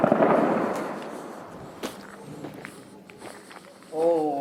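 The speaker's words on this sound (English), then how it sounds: "The sniper shoots a number of times but misses." Sniper rifle shots in wartime Homs. A loud crack with a long echoing tail opens the clip, another sharp shot rings out a little later, and voices talk in the background.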